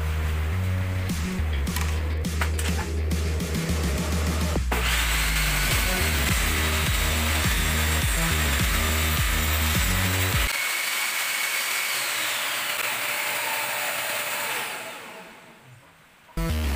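A table saw plugged into an automatic power tool switch runs with a loud, steady whine nearly the whole time, its pitch shifting partway through, then winds down and fades near the end.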